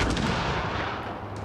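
Continuous loud gunfire and explosive blasts from the video game Mass Effect Andromeda, a dense rumbling barrage with no clear gaps between shots.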